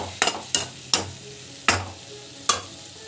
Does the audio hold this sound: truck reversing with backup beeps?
no